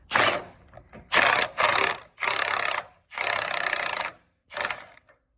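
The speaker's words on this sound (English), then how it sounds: "So I'm gonna use an 18 to remove those two bolts right here." Ratcheting wrench work with an 18 mm socket on the bolts of a Chevy Astro's front steering and suspension, heard as several loud, close bursts of clicking ratchet action separated by short pauses.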